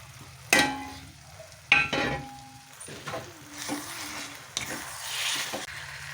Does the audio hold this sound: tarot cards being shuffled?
no